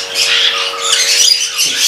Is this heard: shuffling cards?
no